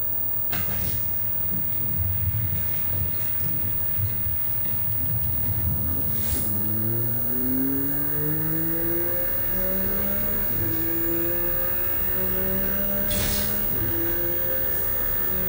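McLaren Artura supercar engine cruising at steady speed in Forza Horizon 5, a continuous low drone with rising and falling harmonic tones as the revs shift, with occasional brief whooshing bursts, loud and close throughout.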